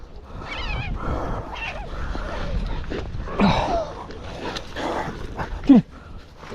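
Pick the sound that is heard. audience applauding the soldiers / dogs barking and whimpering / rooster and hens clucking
dogs barking and whimpering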